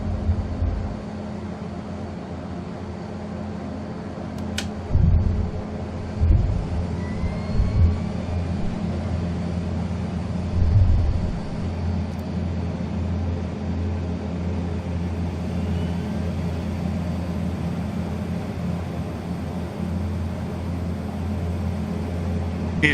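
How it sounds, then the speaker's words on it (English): A NAMC YS-11 turboprop airliner taking off in Microsoft Flight Simulator 2024, a steady low engine drone with a few louder thumps, continuous and even throughout, no talking. "And here's liftoff."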